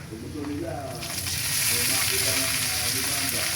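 Shrimp drops into a pan of golden-brown garlic frying in butter, setting off a loud, steady sizzle that swells and holds, with faint stirring scrapes underneath.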